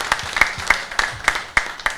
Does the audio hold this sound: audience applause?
yes